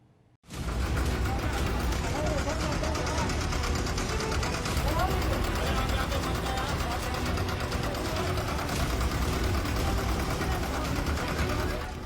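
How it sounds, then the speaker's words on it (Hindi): A tractor engine labours up stone steps on a mountain footpath, its loud, rough rumble grinding on continuously and steadily throughout with no letup. "देखिए पहाड़ी पर बनी सीढ़ियों पर कैसे ट्रैक्टर चढ़ रहा है।"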